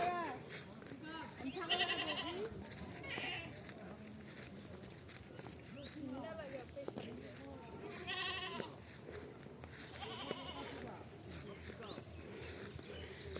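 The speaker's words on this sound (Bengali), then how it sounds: "ছাগল" Goats bleat in a muddy Bengal village field near the Padma river, several short calls spread through the stretch, with people talking and footsteps close by.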